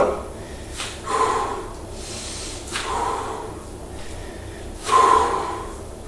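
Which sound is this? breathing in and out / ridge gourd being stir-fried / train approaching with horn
breathing in and out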